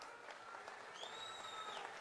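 A crowd at a Congress election rally in Dhanaura, Seoni claps to welcome Rahul Gandhi, steady distant applause under a faint whistle-like tone.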